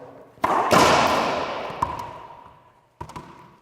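Racquetball down-the-line shot on an indoor court: a sharp racquet strike followed by a loud ringing wall impact that echoes and decays for about two seconds, then a couple of later bounces, with a voice speaking faintly.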